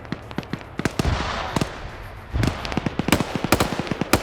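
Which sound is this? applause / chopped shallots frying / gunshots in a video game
gunshots in a video game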